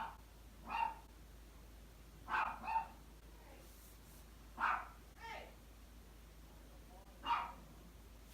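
A dog barks in sparse, separate bursts, about five short barks spaced a second or two apart, moderately close and set against a quiet indoor background with no talk.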